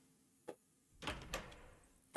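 A door in a Resident Evil video game opens after a key card is used, a short click followed by a sliding, rumbling thunk that fades, then a sharp knock at the end.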